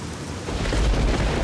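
Rumbling thunder with rain in Fallout 3, a low deep roll swelling in the second half of a very short stretch, no talking.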